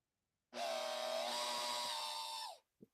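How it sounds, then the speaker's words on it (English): A Makita power tool whirs steadily for about two seconds while backing out a spark plug on a 2005 Chrysler 300 with 225k miles, the motor rising slightly in pitch before it winds down, followed by a brief clink. "I've got my Makita."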